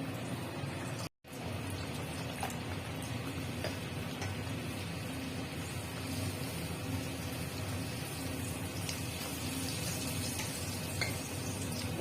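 Kachori dough balls fry in hot oil in a pan with a steady, even sizzle that stays faint and unbroken apart from a brief dropout near the start.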